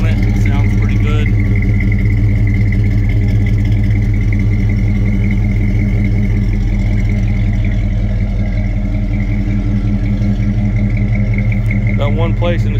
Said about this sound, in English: I believe like a Flowmaster style mufflers on it. Sounds pretty good.